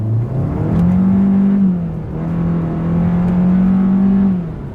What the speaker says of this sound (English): let's downshift. We're in 6th gear, 5th gear, 4th gear, 3rd gear.